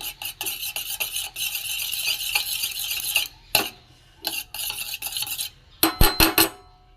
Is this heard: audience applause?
no